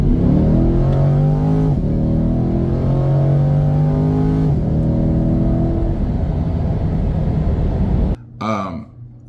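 A 2023 Corvette C8 Stingray 1LT in Z mode launches hard from 0 to 60, its engine roaring loud and close with rising harmonic pitch through several upshifts before the sound cuts off sharply near the end.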